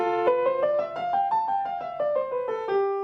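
A piano runs a quick scale up and back down, the notes uneven and slightly clumsy in timing, played close and alone.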